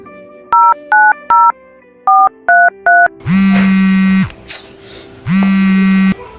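A telephone is dialed with two quick bursts of three keypad tones each, followed by a long steady ringback tone, a pause, and a second ring tone, loud and close.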